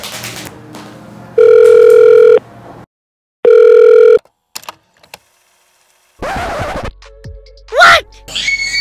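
Telephone calling tones during a call-back, two loud, steady electronic tone bursts about a second each with a pause between, followed by clicks and a voice speaking close by.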